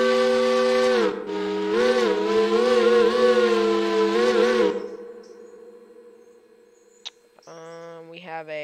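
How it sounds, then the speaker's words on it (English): Powell three-chime steam whistle in the railroad game Railroader gives one long, loud, steady chord with a brief dip near the start, cuts off sharply, and a shorter whistle blast begins near the end. "We got a Powell 3 chime."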